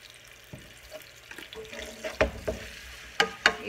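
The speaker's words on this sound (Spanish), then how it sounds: "Y lo dejamos aquí que se fría" Ingredients seasoned with garlic salt frying in a pan, a soft low sizzle punctuated by several sharp utensil scrapes and clacks near the end, quiet and close with no talk.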